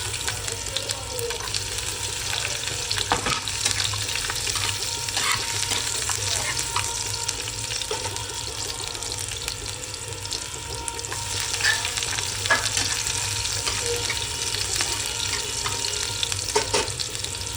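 Garlic and cumin frying in hot oil for a garlicky fenugreek dish, a steady close crackling sizzle with small pops throughout and faint talk in the background.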